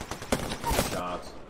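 Bursts of gunfire in the battle royale game Apex Legends, a sharp near shot followed by a dense rattling volley of rapid fire, fairly loud with a faint voice mixed in.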